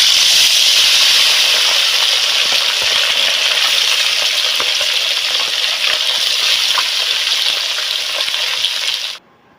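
Pieces of fish frying in hot oil, a loud dense continuous crackling sizzle held close for about nine seconds before cutting off abruptly, with no talking over it.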